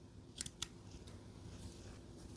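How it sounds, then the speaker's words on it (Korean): Scissors snip white crochet yarn, two quick, sharp close cuts in swift succession, then faint handling noise in an otherwise quiet room. "이제 하얀색 실은 잘라주세요"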